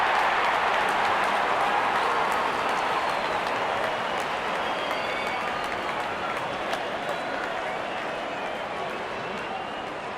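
Steady crowd roar and cheering fills a cricket stadium as the opening batsmen walk out in an LSG vs MI match, a dense continuous wash of noise throughout with a commentator speaking over it.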